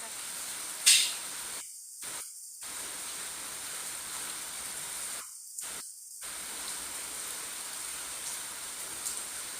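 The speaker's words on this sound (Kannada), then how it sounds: "ಇವತ್ತಿಡೀ ಮಳೆ ನಿಲ್ಲುದಿಲ್ವಾ ಅಂತ ಪಿರಿ ಪಿರಿ ಪಿರಿ ಬರ್ತವೆ ಉಂಟು." Steady drizzling village rain hisses as an even, soft wash of noise through the whole stretch, with one brief sharp knock near the start and no talking.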